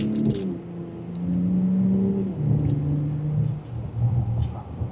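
A 2026 Audi SQ5 Premium Plus accelerates in second gear in dynamic mode, its engine note rising in pitch, dipping at a shift-like pause and climbing again as a loud, close, steady drone with no talking.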